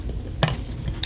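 Forks and spoons clinking as they are handled, two brief metallic rattles close by over a quiet room.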